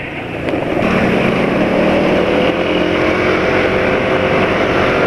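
Motorcycle fitted with a long intake snorkel accelerating, a loud continuous engine drone with rising pitch, heavy wind buffeting and no speech.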